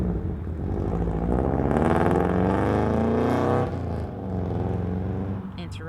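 A small car roars past loudly and close, its engine noise swelling and holding steady before easing off near the end.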